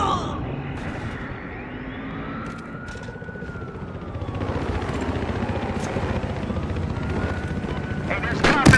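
A transport helicopter in the shooter game Battlefield Hardline thrums steadily through a firefight, its rotor noise growing louder partway through, mixed with distant gunfire and shouted voices.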